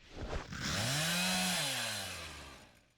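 A chainsaw revs up into a shrill, loud roar that swells, holds steady and then winds down, heard close and alone with no talk.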